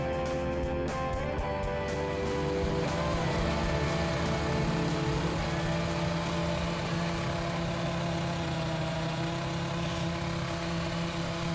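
A 2004 Ferrari engine running steadily, a loud sustained mechanical hum with harmonic tones, heard close and continuous.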